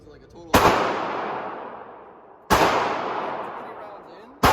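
A case hardened 1911 pistol fired at a shooting range, two sharp, loud shots about two seconds apart, each trailing off in a long echoing decay, with the start of a third at the very end.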